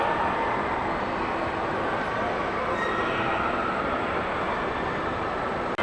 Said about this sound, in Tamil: இந்த பாருங்கங்க, இதாங்க அந்த மியூசிக் எக்ஸ்பிரஸ் ரைடு.